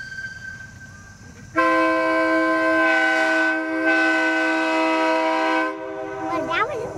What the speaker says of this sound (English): Now that was a honker horn.